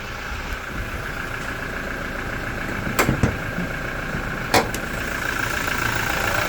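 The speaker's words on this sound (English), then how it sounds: "So I'm going to leave this running for 2 seconds" A 2019 Toyota Hilux SR 2.8 turbo diesel engine idles with a steady, close mechanical hum and a faint whine, broken by a couple of short clicks or taps.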